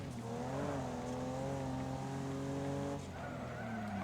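Tires skid and squeal under hard braking in the racing game Wreckfest, a steady loud screech with a droning engine, dipping briefly near the end before resuming.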